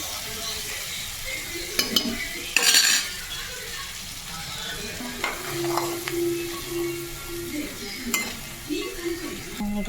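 Boiled chickpeas go into a pan and are stirred with a utensil, with scraping and clinking of metal against the pan over a soft sizzle, close and fairly loud, with no talking.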